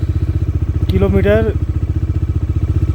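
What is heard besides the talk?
motorcycle engine running after being started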